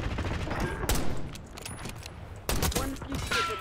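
Sniper rifle shots in the Black Ops 6 video game: two sharp, loud cracks about a second and a half apart, each trailing into a short echo, set against faint game ambience.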